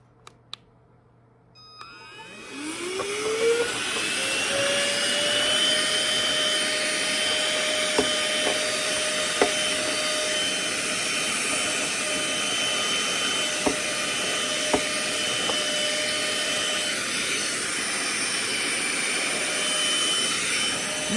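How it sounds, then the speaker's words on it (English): A small vacuum cleaner runs over a dirty machine. Its motor spins up with a rising whine, then holds a loud, steady roar with a few faint clicks and knocks. "Let's run that little vacuum on it."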